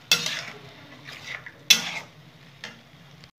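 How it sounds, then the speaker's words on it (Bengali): Spice masala being stirred and sautéed in a pan for a fish curry, two sharp metal spoon clinks against the pan followed by softer scraping stirs, close and otherwise quiet. "ভালো করে কষিয়ে নেব।"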